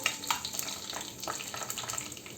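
Raisins and dry fruits sauté in a pan, giving a faint, close, soft sizzle with light scattered crackles and stirring scrapes.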